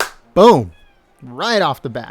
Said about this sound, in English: If you guys hear meowing in the back,